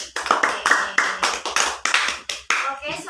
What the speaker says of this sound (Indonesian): Tepuk tangan untuk Vivi.